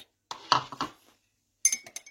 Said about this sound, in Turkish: Bal iyice karışsın diye karıştırıyorum.